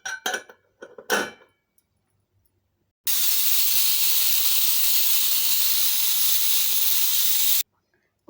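A pressure cooker of cowpea rice lets off steam with one loud, steady hiss lasting several seconds, close by, after a few brief clinks of kitchen utensils.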